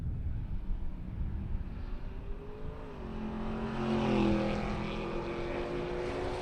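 Engines roar from a twin-turbo Coyote F-150 and a 1965 Chevy Nova launching side by side at a drag strip, a loud sustained drone that rises in pitch partway through as both vehicles pull away.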